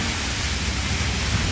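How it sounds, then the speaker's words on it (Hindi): Rain pours down outdoors in a steady, dense hiss, close and even throughout the brief moment with no break in the wash of falling drops. "बारिश हो रही है।"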